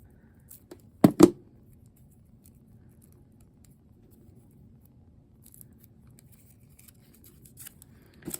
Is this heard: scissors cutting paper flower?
yes